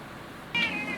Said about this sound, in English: angry kitty.